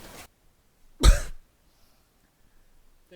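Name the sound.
cough near the microphone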